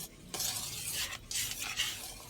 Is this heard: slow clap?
no